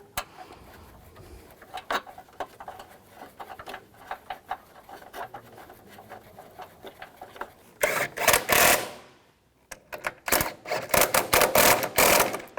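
Bolts being tightened on a transmission mount of a 2011–2019 Ford Explorer, likely with a ratchet: quick clicking ratchet strokes in short bursts, close by, turning into louder rapid bursts near the end with a brief pause between.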